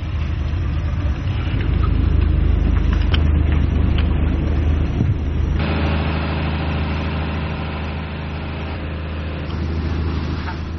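A fishing boat's engine runs at sea off Thailand on the way to an offshore bird's-nest island, a steady low rumbling drone that continues throughout and changes character partway through.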